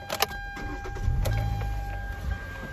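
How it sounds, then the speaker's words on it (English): A 2014 Hyundai Elantra engine cranks and catches, then settles into a quiet, low hum heard close by, with a few clicks and an electric whine alongside. "Engine sounds good."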